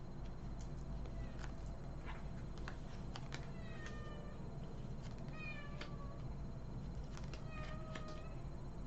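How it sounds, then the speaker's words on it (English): A domestic cat meows several times indoors, short rising calls scattered over a steady background hum, fairly faint and with no one talking. "My cat's looking for me."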